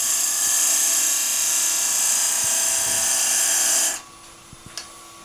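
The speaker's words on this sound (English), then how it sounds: "let's put our parting tool cut to where this piece is going to finish" Parting tool on a wood lathe cutting into a spinning wooden finial, a steady loud high-pitched whine with bright hiss that runs for about four seconds and then cuts off abruptly, leaving a quiet room with a few faint knocks.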